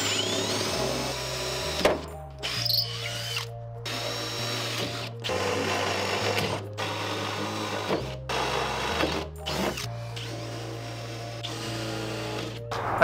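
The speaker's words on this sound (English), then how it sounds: "I'm gonna drill a 1/2-inch hole across the top here." A power drill whirs continuously, its pitch stepping up and down as it bores a half-inch hole into the wooden top of an armoire, with short pauses between bursts.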